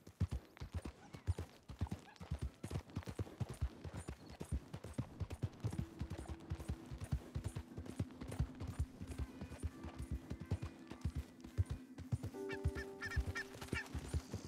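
Birds in Red Dead Redemption 2 honk in short, faint, repeated calls over a continuous clip-clop of horse hooves on the trail, the honking growing denser toward the end.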